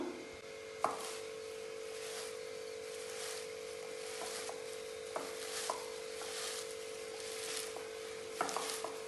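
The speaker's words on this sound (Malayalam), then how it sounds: "ഇനി നമുക്കിത് നന്നായിട്ട് കൈ വെച്ച് തന്നെ ഒന്ന് മിക്സ് ചെയ്ത് കൊടുക്കാം" Flattened rice snack mixed by hand in a bowl, with soft rustling and crunchy scraping strokes in an irregular rhythm, faint and close, over a steady background hum.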